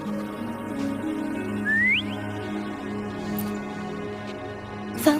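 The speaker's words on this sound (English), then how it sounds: "Try whistling." A rising whistle in Wuthering Waves, blown to call the companion Foam, is heard as two short upward-sliding notes over steady game music, fairly faint against the background.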